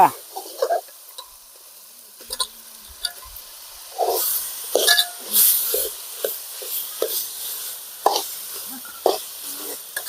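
Potato pieces sautéed and stirred in a pan with tomato for a potato kurma, a soft sizzle under repeated scraping strokes of the spoon, close and moderately loud.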